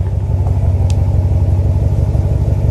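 A Chevrolet Silverado with a muffler delete and factory exhaust tips idles after a warm start, giving a loud, steady, deep rumble close by.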